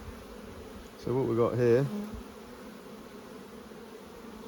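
Buckfast honey bees buzz steadily around an open hive during an inspection, a constant faint drone heard close throughout while someone talks briefly over it.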